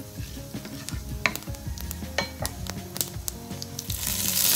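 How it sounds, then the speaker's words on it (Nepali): Cumin seeds fry in a pan during stirring, with steady sizzling and frequent clinks and scrapes of the utensil against the pan, and the sizzle rises toward the end. "यसमा जिरा राखेको छु त्यो पनि मिक्स गरेर फ्राई गर्नुपर्छ"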